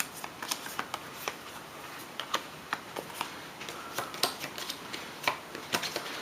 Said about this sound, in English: we'll shuffle these, so we don't know precisely which one's which